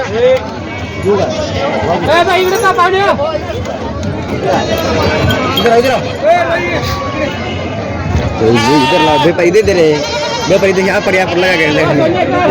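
Goats bleat loudly and repeatedly at the Khandoba goat market in Parbhani, with a crowd's busy chatter and people talking underneath throughout.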